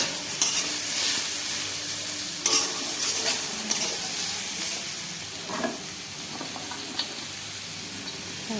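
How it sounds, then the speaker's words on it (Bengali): Fish curry with turmeric powder being stirred and fried in a pan: a continuous oily sizzle and hiss, broken by repeated scraping and clattering strokes of the spoon, close and alone. "দিয়ে একটু ভালো করে নেড়ে চেড়ে এটাও একটু হলুদ গুঁড়ো দিয়ে নিলাম।"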